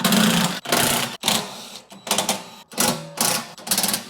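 A tool unscrews the 3/8 bolts on the belly pan of an Ariens Deluxe 24 snowblower in loud mechanical bursts, roughly seven short whirring runs separated by brief pauses, close up with no talking.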